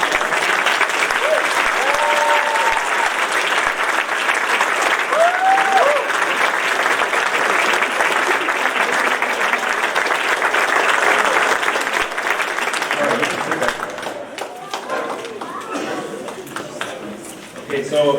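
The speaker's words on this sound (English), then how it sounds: "we're going to clap again. Congratulations." Graduating students and guests give a long, loud round of applause at a graduation ceremony, steady and dense throughout, with a few voices heard briefly early on and the clapping thinning out near the end.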